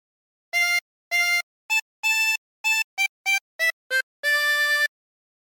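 A 16-hole tremolo harmonica plays a phrase of Oh Susanna as ten clean, separate notes, short and long, with brief silences between them and no other sound.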